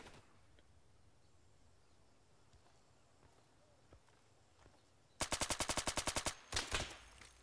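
Automatic gunfire rings out in the Insurgency video game, a fast burst of about a dozen sharp shots followed by a few more, loud over quiet footsteps and ambient noise.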